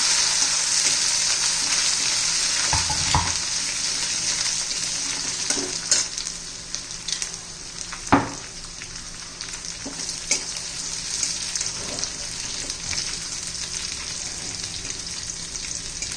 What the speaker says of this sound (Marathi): आता ठेचून घेतलेला ठेचा घालूया आपण मिरची ठेचा चांगलं तेलामध्ये परतून घेऊ